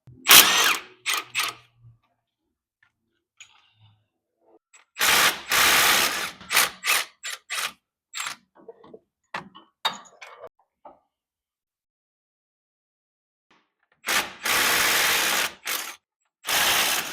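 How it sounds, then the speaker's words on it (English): A ratchet with a 17 mm socket works axle bolts loose on a 2000 Chevy Silverado 1500 during CV axle replacement, in loud, close bursts of rapid clicking separated by near-silent pauses. "You're gonna grab your 17 millimeter and start taking them out."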